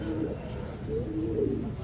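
A small, very young pigeon-type bird with few feathers coos softly in a short series of low, gentle calls, close by and faint.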